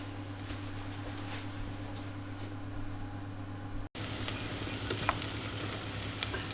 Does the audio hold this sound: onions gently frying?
yes